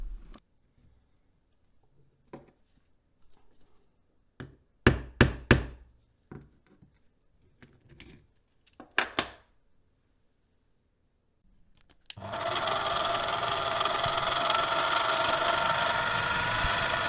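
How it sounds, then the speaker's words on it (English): Several sharp metallic taps at uneven intervals from a center punch marking metal, then a loud, steady whirring drill boring a through hole that runs continuously to the end. "Here I'm using a DIY center punch to mark the location of the through hole and drilling out."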